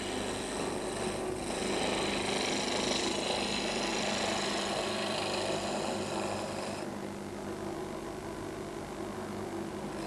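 A wood lathe roughing out a spindle with a gouge runs as a continuous whirring, rasping drone at steady loudness for the whole stretch, with no talk.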